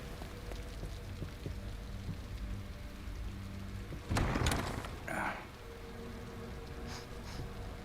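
Steady rain in the video game The Evil Within hisses as a constant wash, with a brief louder crash or rumble midway before the even downpour resumes.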